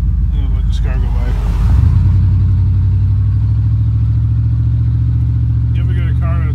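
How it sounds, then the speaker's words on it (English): A car on a street approaches and passes close by with a rising engine roar and a sustained rumble, while someone talks over it at the start and end. "Let this car go by."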